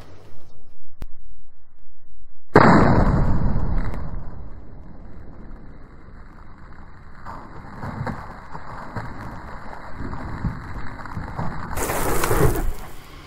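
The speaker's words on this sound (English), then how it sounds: "I love shooting slugs." Mossberg Maverick 88 shotgun fires a slug outdoors: one sharp, loud blast after a quiet lead-in, its rumble fading over a few seconds, then a brief harsh noise near the end.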